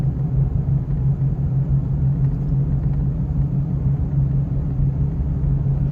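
A 2012 Chevrolet Colorado 3.7 four-wheel drive, heard from inside while driving at low speed, gives a steady, loud low rumble with a constant droning hum running underneath, continuous and without talk.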